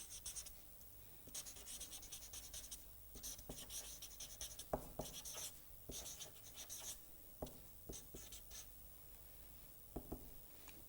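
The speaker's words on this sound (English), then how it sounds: "So, let us write it down." Steady scratching of writing on paper or a board during a signal-processing lecture, quiet and close, made of short strokes with brief pauses and no talk over it.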